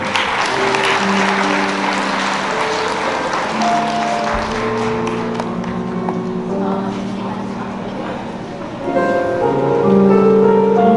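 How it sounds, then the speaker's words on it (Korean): Wedding guests at a hotel ceremony in Songdo applaud steadily as the groom places a ring on the bride's hand, a broad wash of clapping under background music, swelling louder near the end. "큰 박수 부탁드리겠습니다"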